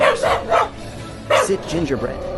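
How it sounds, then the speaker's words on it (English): A pet dog gives a few short yipping barks and whimpers close by, mixed in with a person talking. "That's my dog."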